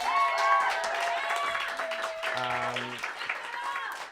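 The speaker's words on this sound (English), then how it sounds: "One more round of applause for Cala." Audience applause at a live comedy show for a performer, a steady spread of clapping heard under talking voices, continuing throughout.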